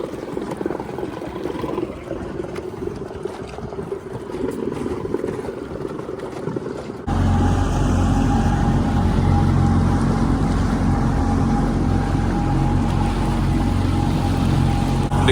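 A Gheenoe Classic boat runs under outboard power, engine drone and water rush filling the scene, growing louder and steadier partway through with no talking.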